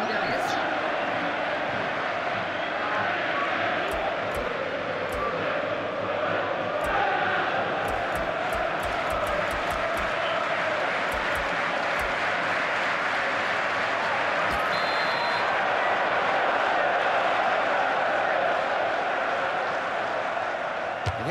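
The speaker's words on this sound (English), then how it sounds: "Plenty of oohs from the crowd" Stadium crowd oohing at a free kick in the football video game FIFA 15, a loud, dense wash of crowd noise sustained throughout with commentary-like voices underneath.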